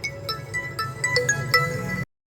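An incoming-call ringtone sounds from a Samsung Galaxy A03 phone, a bright melodic electronic tune of repeated tones, close and fairly loud, cutting off abruptly after about two seconds.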